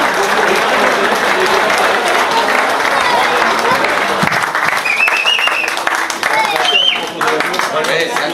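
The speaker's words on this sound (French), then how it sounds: "On peut applaudir" A crowd at a rural agricultural fair in Cuon claps loudly and continuously, a thick, close wash of applause that fills the whole stretch, with a few voices faintly underneath.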